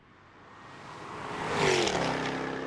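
A supercharged 5-litre V8 in a Jaguar F-Type R coupé with all-wheel drive rises in pitch as it revs and accelerates, the roar swelling and growing louder, peaking as if passing close by, then holding a steady drone.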